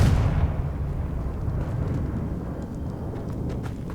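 A Confringo blasting spell explodes in Hogwarts Legacy, a loud boom at the start that decays into a sustained low rumble for several seconds, heard alone without speech.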